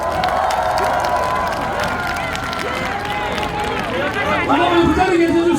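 A large crowd at an outdoor political election rally in Daegu, South Korea, cheers and claps, with lively hubbub and voices rising toward the end.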